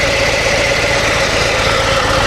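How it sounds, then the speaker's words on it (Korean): A 2019 Harley-Davidson Fat Boy 114 with a Milwaukee-Eight V-twin engine and twin silencers idles steadily and loudly, a continuous low rumble with a constant mid-pitched drone and no voices. "트윈 사일렌서가 들어간 미러키 8 엔진의 진동은 정차 시에는 이 정도예요"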